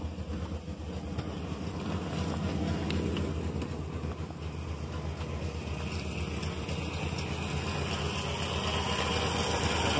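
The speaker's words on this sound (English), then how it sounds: "The engine runs pretty well, you know. Slight miss. But I think that's just a lumpy engine." The engine of a 1968 Cadillac DeVille convertible idles steadily with a slight miss, giving a dense, continuous low rumble heard close up and without talk for the whole stretch.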